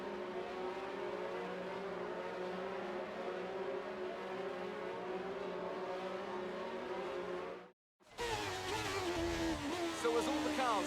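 F1 22 race cars idling and revving on the starting grid in wet Singapore conditions, a steady engine drone with harmonic whine that cuts out briefly near the end, then returns louder and busier.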